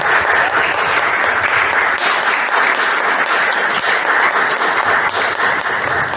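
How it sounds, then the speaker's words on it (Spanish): Sustained audience applause fills a room at an evening literary reading, a dense and steady wash of many hands clapping close and loud without a break. "pues un aplauso para Fabiola y para"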